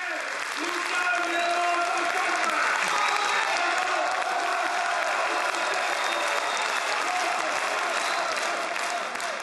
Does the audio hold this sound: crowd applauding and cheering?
yes